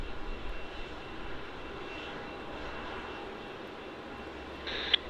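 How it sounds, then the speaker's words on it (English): A Thai Airways Airbus A350 from Bangkok at Melbourne Airport, its jet engines giving a steady, distant broadband roar that holds evenly throughout, with a brief sharp click near the end. "enjoy this Thai A350"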